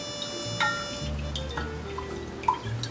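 Balsamic vinegar is poured in a small amount into a beef jerky marinade, giving a few faint drips and trickles over steady kitchen background noise, with no talking.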